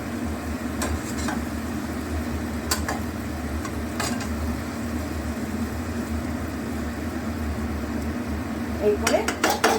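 Eggs and cabbage being turned over in a pan, with scattered clinks of utensil against cookware over a steady low cooking hiss and background hum, a few sharper scrapes near the end; someone speaks faintly.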